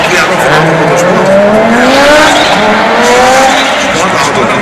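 An Audi S1 race car drifts at the Race of Champions, its tires squealing in long rising and falling wails over a loud, continuous engine roar and crowd-like wash of noise, with a voice talking underneath.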